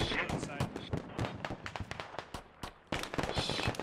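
Rapid bursts of gunfire in the military shooter Squad during an assault in Pakistan, sharp cracks repeating in quick irregular volleys with a brief lull before firing resumes, moderately close.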